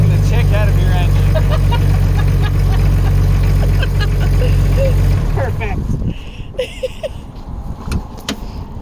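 A car engine idles with exhaust attached in a steady, loud low rumble for about five seconds, then cuts off, leaving quieter handling noises and people talking.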